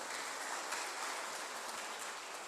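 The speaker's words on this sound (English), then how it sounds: "Please round of applause for his wonderful friend." Steady, faint round of applause from an audience at a student career counselling event, a dense even wash of many hands clapping throughout with no pauses.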